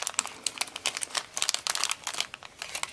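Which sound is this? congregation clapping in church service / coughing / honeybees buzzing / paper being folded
paper being folded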